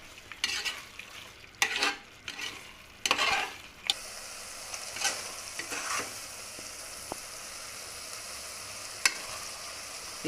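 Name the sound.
frying spices for soya pulao in pan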